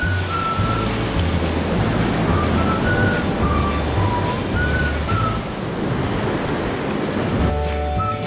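Steady rushing river water flowing along a natural riverbed near Prambanan, Yogyakarta, a continuous broadband wash with no clear speech.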